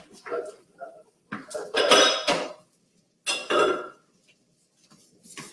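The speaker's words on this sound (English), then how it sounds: "I'm just putting stuff in the sink, y'all, just to get it out of the way" Dishes and utensils are set into a kitchen sink in a few separate bursts of clattering and clinking, close and fairly loud, with quiet gaps between them.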